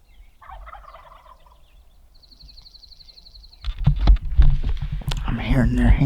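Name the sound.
wild turkeys gobbling and calling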